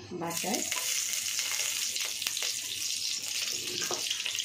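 Butter being stirred into hot oil in a frying pan for a chicken dish, giving a steady close sizzle with soft scraping of the stirring, and no talk.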